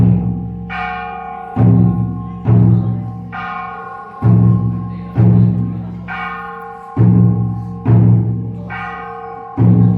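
A large temple bell in Tainan is rung repeatedly during a rehearsal, about eight loud metallic strikes at a steady pace, each ringing with a rich hum and decaying until the next blow.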